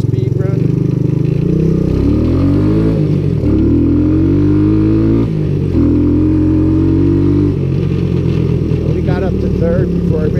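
A 1984 Honda ATC200S three-wheeler engine revs up repeatedly on a speed run, loud and close, its pitch climbing through gears with short dips between pulls, under intermittent talk.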